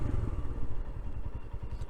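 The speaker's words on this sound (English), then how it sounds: "I can hear the exhaust" A Royal Enfield Scram 411 motorcycle exhaust burbles in a low, steady thump while riding, fairly close, with rhythmic pulsing and some clatter, no talking.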